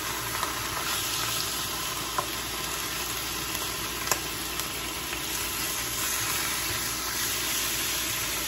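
Cheesesteak meat frying in hot grease gives a steady, close sizzle and crackle with a few brief pops, with no talking over it.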